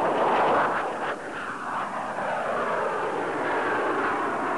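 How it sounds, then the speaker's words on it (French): The Dassault Balzac, a French vertical-takeoff jet, accelerates in flight with a broad, loud roaring rush of engine noise that swells briefly and then holds steady. "L'avion s'accélère rapidement."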